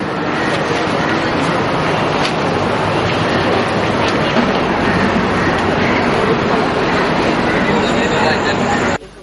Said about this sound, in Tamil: சிலாபத்திலிருந்து பயணத்தை ஆரம்பித்த அலுவலக ரயில் சரியான நேரத்திற்கு கோட்டை ரயில் நிலையத்தை வந்தடைந்தது.